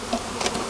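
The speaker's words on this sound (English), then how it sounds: "wipe down the bees, get them inside the hive" Honey bees from a newly installed package swarm around a hive, giving a steady, dense buzz that stays close and constant with faint wingbeat flutters and no talking.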